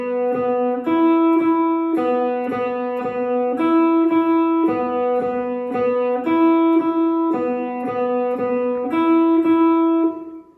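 Single guitar string, the open high E, alternately picked down and up in an odd-meter phrase: steady, evenly spaced plucked notes repeating in short grouped cycles, close and clear with no talking.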